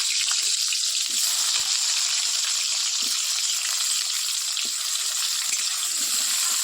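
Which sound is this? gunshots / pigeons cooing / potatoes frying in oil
potatoes frying in oil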